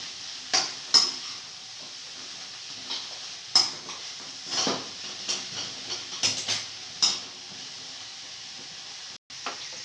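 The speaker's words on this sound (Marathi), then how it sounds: "लसूण जरासा करपवायचाच." Garlic frying with fenugreek leaves in an oiled pan, heard as a soft steady sizzle under repeated close scrapes and clinks of a spoon stirring against the pan.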